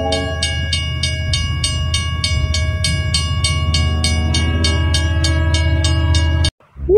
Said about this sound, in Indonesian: Keluarlah kereta api Thomas.